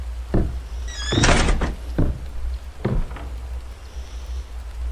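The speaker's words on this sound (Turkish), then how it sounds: "Evet kapı açılmış." A door opens in the horror video game İblis 3: Phenomena, set in a haunted village. A few heavy thuds and a creaking slide sound close and loud over a steady low hum.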